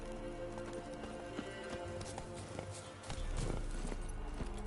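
Roach, Geralt's horse in The Witcher 3, trotting with a regular clip-clop of hooves, moderately close, over a low game ambience that swells near the end.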